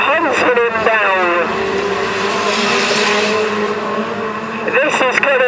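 Race cars in a race at Standlake Arena, engines droning loud and steady throughout, with a commentator talking over the start and end.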